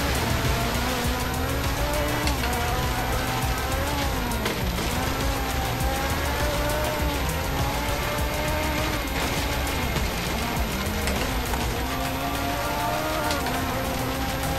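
A Ferrari 458 in Forza Horizon 3 taking a sharp right turn, its engine note rising and falling in a continuous whine over a dense hiss like rain or gravel.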